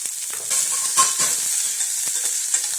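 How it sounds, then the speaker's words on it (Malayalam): Sliced onions sautéing with salt in a pan for a jackfruit seed stir-fry, a bright close sizzle broken by quick scrapes and taps of a spoon stirring. "ഒരു 1/4 സ്പൂൺ ഉപ്പുകൂടി ഇട്ട് സവാള നന്നായി വഴറ്റിയെടുക്കാം"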